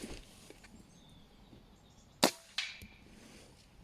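Two suppressed shots from a Stoeger XM1 air rifle fitted with a silencer, each a sharp, brief crack a fraction of a second apart, standing out over quiet outdoor background.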